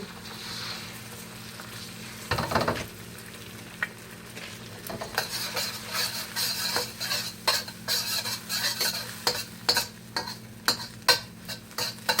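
An egg fries for Yangchow fried rice, a steady low sizzle in a pan punctuated by sharp scrapes and taps of a utensil stirring against the metal, growing busier and more rhythmic.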